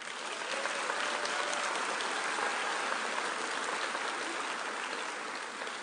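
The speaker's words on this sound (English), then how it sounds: "Give yourselves a round of applause." Graduates at a 2022 spring college commencement ceremony applaud, a dense, continuous wash of many hands clapping at steady volume for several seconds, with no speech over it.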